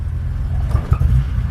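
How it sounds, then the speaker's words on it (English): A BMW E30 engine with a failing fuel pump revs sluggishly, a low rumbling drone that swells only slightly as the throttle is pressed, close and continuous for a brief moment. "I can show you what it sounds like with a bad fuel pump"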